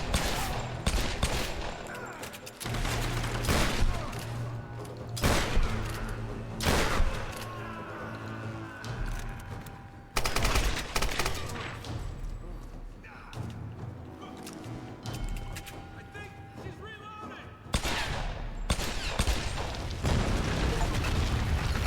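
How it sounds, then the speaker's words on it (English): Repeated gunfire from a weapon in the 2013 Tomb Raider video game, loud bursts and single shots scattered through the whole stretch, with a voice talking over the shooting. "The bullet spread on this gun is so annoying."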